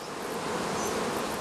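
Swarm of worker honey bees buzzing near blossoms in the Alps, a dense continuous drone at close range.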